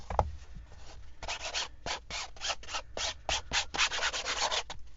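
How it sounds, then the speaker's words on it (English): Sandpaper rubbed over the painted fabric cover of a handmade journal, a close series of quick rasping strokes in a steady rhythm with brief pauses between passes, alone with no talk. "now this is when we can have some more fun with our sandpaper"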